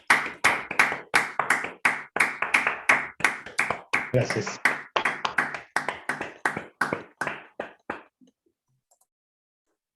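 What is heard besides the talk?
audience applause after a talk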